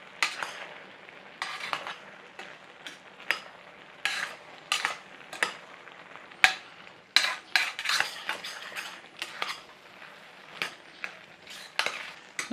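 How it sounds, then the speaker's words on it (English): Apples being stirred in a pan for a mashed potato pastry apple cake, with irregular clinks and scrapes of a utensil against the pan over a soft sizzle, close and fairly quiet, no talking. "give these a little stirring over"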